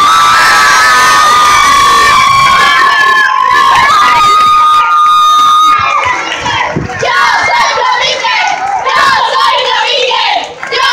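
A festival crowd in Palencia claps, cheers and shouts loudly, with children's voices among the noise, and the dense cheering holds throughout before easing slightly toward the end.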